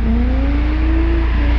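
A 500whp Subaru STI drifts around the outer ring of a kart track, its engine holding a loud, continuous drone whose pitch climbs slowly and steadily, with no voices.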